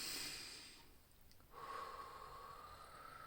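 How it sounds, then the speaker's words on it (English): One slow, deep breath, an audible inhale followed by a long exhale, close and soft with no talking. "Let's take a deep breath."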